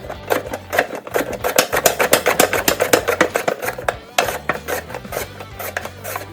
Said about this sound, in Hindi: अब इनकी हम पतली पतली स्लाइसेस काटेंगे।